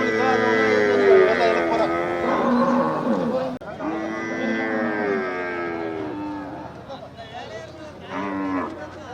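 Cattle low repeatedly and loudly at a busy cattle market, with long drawn-out moos and faint voices in the background.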